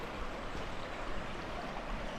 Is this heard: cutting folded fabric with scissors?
no